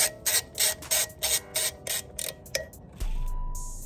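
Bolts being tightened during a thermostat replacement on a Jeep radiator, a steady series of short ratchet clicks in quick bursts, close and fairly loud, ending in a brief hum.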